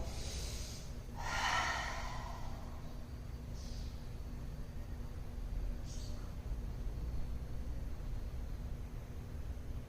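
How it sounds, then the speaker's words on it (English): A deep inhalation during a morning pranayama breathing exercise: one strong, airy breath drawn in early, over a steady low hum, followed by faint soft breath sounds. "Big inhale."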